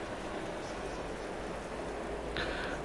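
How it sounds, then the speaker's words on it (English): Steady, soft rain hisses without a break in the Assetto Corsa Competizione racing game, a faint, even wash that continues throughout with no other clear sounds. "It is raining."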